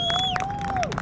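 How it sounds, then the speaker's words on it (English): Crowd at a modified car show cheering and applauding a surprise proposal, a continuous dense wash of clapping and voices close by, with whistle-like tones sliding over the top throughout. "A round of applause."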